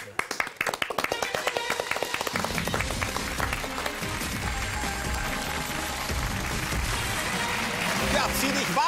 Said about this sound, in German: Zum Abschied vielleicht noch mal begeistert klatschen